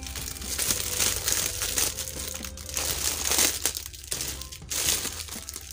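Plastic and paper packaging of a round 30 cm quartz wall clock with Surah Al-Ikhlas decor being unwrapped, with continuous close crinkling and rustling throughout.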